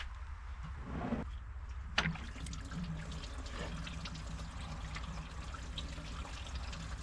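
Water trickles and flows steadily from a busted inner seal of a car engine's water pump, leaking between engine block and pump; a faint continuous stream with a small knock, no talk.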